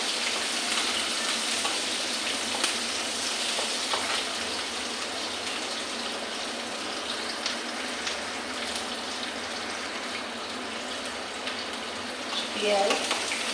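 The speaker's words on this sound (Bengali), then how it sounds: "পেঁয়াজটা একটু ভাজা করে পেঁয়াজ" Onions frying in a pan with garlic, a steady crackling sizzle heard up close throughout, with a brief stirring scrape near the end.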